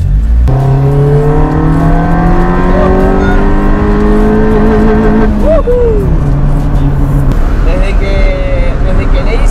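A Chevrolet Corsa fitted with a direct open intake revs loudly and close by, its engine note climbing in long rising sweeps, dropping off, then revving again.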